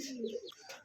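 Several pigeons coo in a Bengali pigeon seller's loft, where Red Lahori pigeons are kept, giving a low warbling coo followed by faint chirps, close and moderately loud with no talk.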